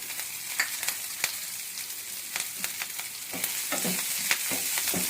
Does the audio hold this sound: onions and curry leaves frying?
yes